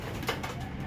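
Racing pigeons arrive home after a 50 km toss and coo softly in a short burst over steady outdoor background noise at the loft.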